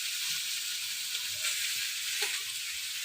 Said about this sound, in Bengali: সবজি ভাজা অর্ধেক হয়ে গেছে